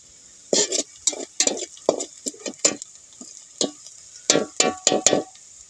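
Onion frying in a pot on a wood-fired village stove while mutton is being cooked, with a spoon stirring it in a run of sharp, irregular scraping and sizzling bursts, close and fairly loud, with no talking.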